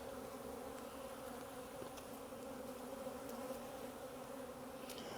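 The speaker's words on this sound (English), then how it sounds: "These bees seem calm, they seem happy" Honeybees hum steadily inside an open hive, a continuous, even, close-up drone with no voices and no breaks.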